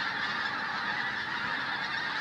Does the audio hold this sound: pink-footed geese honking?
yes